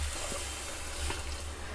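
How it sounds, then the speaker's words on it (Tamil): Fenugreek greens sizzle and hiss steadily in a hot pan, a constant close frying sound with faint stirring scrapes and no voices. "வெந்தயக்கீரையை கொஞ்சம் வதக்கிடுங்க"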